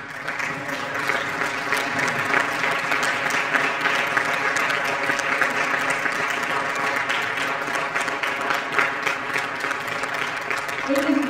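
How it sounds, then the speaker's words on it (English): A concert audience at a music center applauds young composers, sustained dense clapping from a large crowd that holds steady throughout, fairly loud and close. "If I could have all of our young composers here tonight stand up one more time for a round of"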